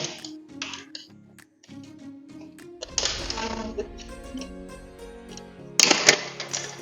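The plastic cover of an 18-module switch plate is pried open with close, rattling clicks and snaps, ending in a louder clattering burst near the end over a faint tonal background.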